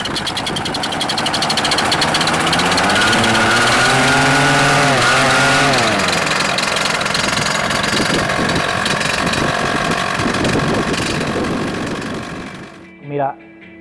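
Small ultralight aircraft engine, adapted from an agricultural or motorcycle motor, running loud and close at the Cozumel air show, its buzzing pitch rising and falling before the clip cuts to near silence at the end.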